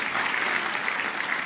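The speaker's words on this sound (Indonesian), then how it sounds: "Tepuk tangannya yang kenceng." A church audience gives a brief, hearty round of applause lasting under two seconds, an even, fairly quiet clatter of many hands.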